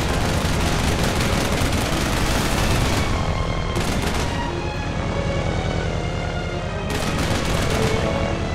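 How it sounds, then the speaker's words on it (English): Video-game gunfire in The Adventures of Tintin: dense, continuous bursts of rapid shots and explosions fill the whole stretch loudly, with brief surges in intensity. "They're shooting at us!"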